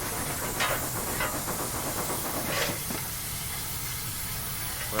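A steam locomotive in the Train Simulator game on the GWR Falmouth branch gives off a steady broadband hiss of steam, with a few brief louder bursts of venting over a continuous background rumble.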